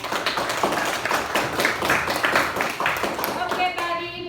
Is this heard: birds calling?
no